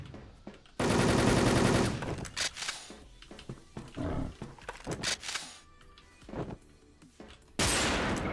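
Ruger rifle fire in a video game: loud bursts of rapid shots at the start and end, with scattered single cracks between and someone talking under the action.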